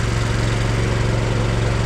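A concrete pump engine runs during a high-rise tower pour, a steady dense mechanical drone with constant vibration throughout and no distinct valve clunk.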